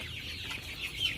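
Hungry chickens cluck softly nearby, a few murmuring calls over a quiet farmyard background.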